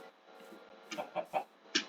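Chicken clucking in the video game Minecraft, a few short clucks around the middle and end of the clip over a faint steady background.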